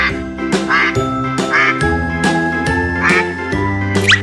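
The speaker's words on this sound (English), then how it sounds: "Duck." A toy duck quacks again and again in a steady rhythm, loud and close, with bright tinkling chimes ringing alongside in a children's animal-names setting.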